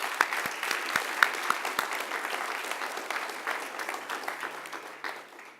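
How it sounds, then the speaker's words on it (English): At a college transfer celebration, an audience gives a round of applause: a few sharp, distinct claps up front swell into a thick crackling ovation that slowly thins and fades. "So let's give a round of applause to all of you."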